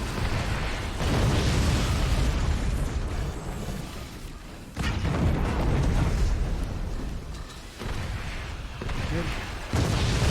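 Heavy weapons keep firing from bases in the Forts multiplayer strategy game, a dense, continuous barrage of loud booms and blasts that surges and briefly dips, with no voices over it.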